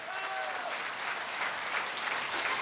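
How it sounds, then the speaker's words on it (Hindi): Sustained applause from an audience at an AWPL speech event in Meerut, a dense steady wash of clapping throughout with a faint voice briefly audible at the start. "एक जोरदार तालियां होनी चाहिए।"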